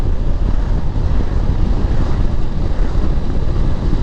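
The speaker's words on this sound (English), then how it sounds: "It's really windy out here." Strong wind buffets the microphone at about 80 km/h while riding with a Vega Bolt Bunny helmet, a steady, loud roar with continuous low rumbling gusts throughout.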